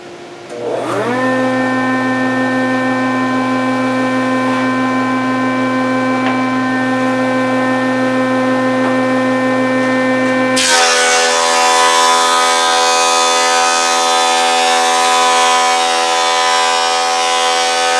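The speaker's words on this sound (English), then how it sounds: "I'm going to turn on the dust extractor" Dust extractor running steadily in a wood shop while boards are machined, a loud constant motor drone with strong harmonic hum that jumps to a harsher, broader roar partway through as cutting or feeding starts.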